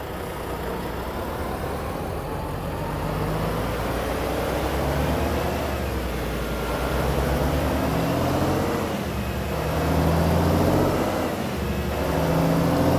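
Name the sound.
LT mod truck engine in SCS truck simulator video game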